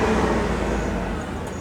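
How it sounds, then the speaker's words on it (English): A big fire truck drives right past, its heavy engine and road rumble loud and close, fading slightly as it goes by. "Here comes a fire truck."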